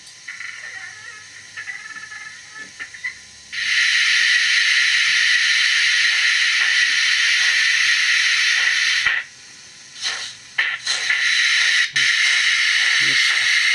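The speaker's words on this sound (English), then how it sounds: "let's give the locomotive a little test, see if it will stop at each cut in the track" A model locomotive is test-run on a model railway track. A loud, steady hiss starts abruptly, runs for several seconds, cuts off, then returns in short bursts with small clicks between them.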